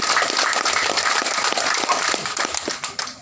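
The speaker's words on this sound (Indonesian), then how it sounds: "Tepuk tangan dulu." Audience applause at a regional government speech in Kolaka Timur, a dense steady wash of many hands clapping close by, sustained for a few seconds and fading slightly at the end.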